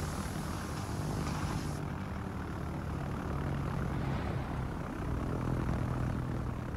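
Attacking propeller planes in the naval video game World of Warships give off a constant, loud, droning engine buzz that holds steady with no voices, the hum swelling slightly near the end.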